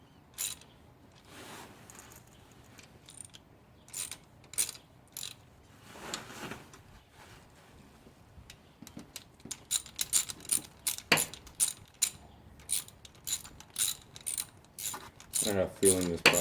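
A hand ratchet tightens the cylinder head bolts on a 5.3 engine during a 706 cylinder head install. Close, crisp ratcheting clicks come in short strokes, sparse at first and then faster and denser toward the end, with no voices.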